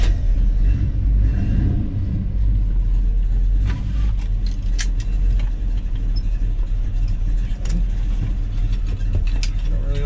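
A 1969 Chevelle with a four-speed manual cruising around the block, heard from inside the car as a steady, loud low engine rumble with road noise, no talking.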